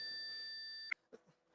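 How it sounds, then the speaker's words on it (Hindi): A phone rings with a steady electronic tone that cuts off abruptly with a click, followed by faint handling noises. "ओ घंटी बज रही है, पप्पू फोन चेक कर।"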